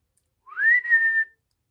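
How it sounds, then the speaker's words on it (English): A single rising whistle by a person, sliding upward and then holding a steady tone for about a second, clear and close against silence. "Sorry for the whistling"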